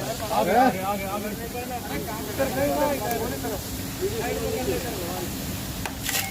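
Water from a fire hydrant hose sprays in a continuous loud hiss, with people talking and calling out over the rush throughout.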